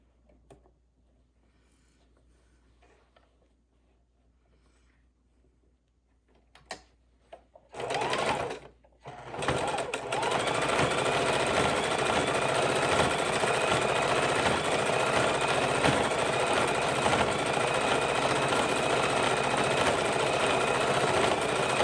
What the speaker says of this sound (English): it's nice to have this heavy-duty machine as I go over these beads to sew them down